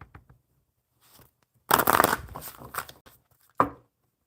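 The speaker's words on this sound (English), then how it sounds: "All right, Amanda, one more good shuffle" A deck of playing cards is shuffled at a card table in one close, crisp burst of riffling lasting about a second and a half, then a short snap as the cards settle. Little else is audible.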